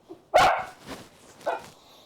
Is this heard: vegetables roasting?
no